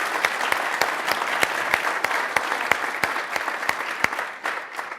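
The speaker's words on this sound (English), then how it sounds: "Let's give them a round of applause for that." An evening event audience at the California Academy of Sciences applauds its sponsors with steady, dense clapping that carries evenly for several seconds before easing slightly at the end.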